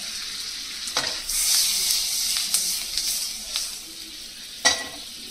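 Cumin seeds sizzle in hot oil and butter in a pan for a vegetable jalfrezi, a steady close hiss with a few sharp crackling pops and brief stirring scrapes.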